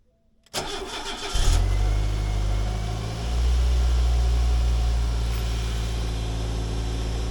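A car engine cranks briefly, then catches and settles into a steady, loud idle close by, with a slight rise in revs midway, started after a check-engine light repair.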